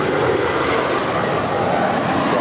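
An eight-year-old Spirit Airlines A320 departs Los Angeles International, a steady, dense jet roar holding at an even level throughout with no break or voices.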